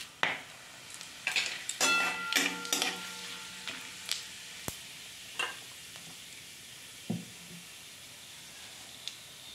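Cloves, peppercorns, cinnamon, bay leaves and cumin crackle in hot oil, with a soft sizzle and scattered sharp pops. A spoon knocks and stirs against the pan now and then, and no one speaks.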